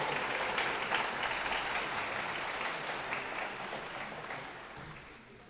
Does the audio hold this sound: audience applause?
yes